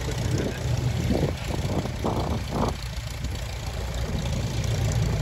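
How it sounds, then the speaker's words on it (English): An RV-6A light airplane's engine runs after a hand-prop start, a loud, steady propeller drone and rumble close by with brief bursts of sound over it and no talk. "We're going to take a video of John starting up this airplane here"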